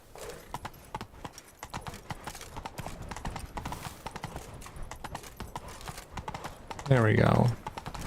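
Horse hooves gallop with rapid, steady clip-clops in a Witcher video game, accompanied by a brief whinny near the end, while someone speaks briefly.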